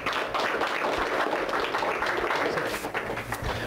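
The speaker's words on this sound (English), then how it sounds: "Give yourselves a big round of applause" Audience clapping at a live training seminar, a sustained, even burst of applause from a room full of people, moderately loud and without a break.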